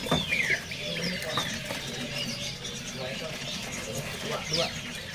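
Chirps and twitters from several caged songbirds at a bird-seller's kiosk, including Javan fantails, sound close by over a steady background of market noise and voices.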